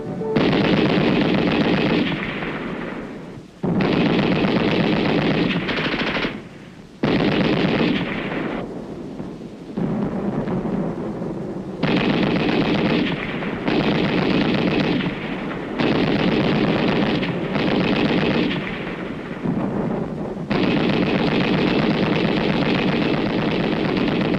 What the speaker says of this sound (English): Allied troops open fire with machine guns on an enemy-held area